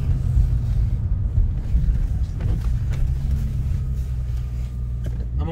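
A car engine runs with a deep, steady low rumble, close and fairly loud, while faint background sounds rise and fall over it.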